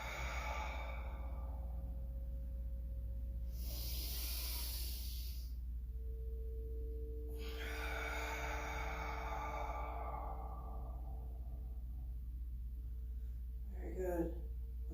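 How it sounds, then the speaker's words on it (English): Deep breaths in and out during a guided movement and stretching session: soft hissing inhales and exhales in slow cycles, close and fairly quiet over a constant low hum. "full breath out."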